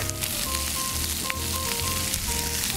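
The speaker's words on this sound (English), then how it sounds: "So at this point, let's add our garlic" Garlic sizzles in hot oil and butter in a pan used for searing venison, a steady, close, bright crackling hiss with no talk over it.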